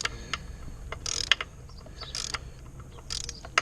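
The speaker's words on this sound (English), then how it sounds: "now I'm actually having to use a ratchet on it" A hand ratchet tightens a hose clamp on a Porsche 944 engine, producing several short bursts of close, crisp clicking separated by quiet gaps.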